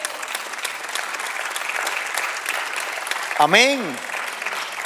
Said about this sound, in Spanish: Dar otro aplauso al Señor.